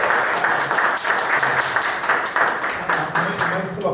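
Audience at a book launch for an African theatre handbook clapping in a lively, rhythmic burst, close and fairly loud for several seconds with faint voices underneath.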